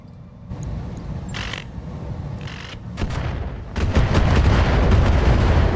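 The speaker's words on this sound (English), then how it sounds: "Firing." Weapon fire in the mech combat game RogueTech, with dense booming artillery-like blasts and rapid gunfire building from scattered shots into a loud, continuous barrage toward the end.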